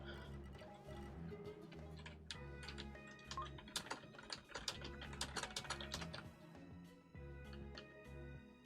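Rapid typing on a computer keyboard during a Spiral Knights game session, a fast, irregular run of close, crisp key clicks over a low steady hum from the game.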